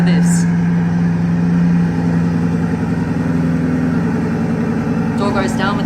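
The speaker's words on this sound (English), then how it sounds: "Time to start the engine. This is one of the best sounding Bugattis," A Bugatti Bolide hypercar engine idles with a steady, low, rumbling drone that stays close and loud throughout, with a brief rise in pitch near the end.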